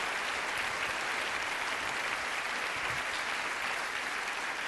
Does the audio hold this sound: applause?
yes